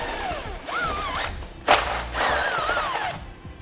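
A power driver with a 10mm socket whirring in bursts to remove a bolt and nut from a washer tank on a 2012 GMC Terrain, rising and falling in pitch at close range, with a brief clank between runs.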